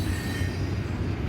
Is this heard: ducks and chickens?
no